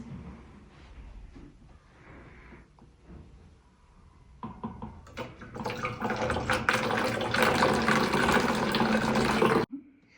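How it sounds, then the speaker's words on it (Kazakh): Water pours into a plastic bottle during a simple air experiment: faint handling sounds come first, then a steady, rising splash and gurgle that runs for about five seconds before stopping abruptly. "Қазір біз бұның ішіне су құятын боламыз."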